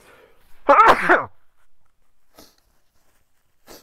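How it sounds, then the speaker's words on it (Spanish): A single loud sneeze bursts out close to the microphone during a livestreamed talk, then quiet with faint rustles. "creo que por ahí me, va a salir un estornudo, permítanme."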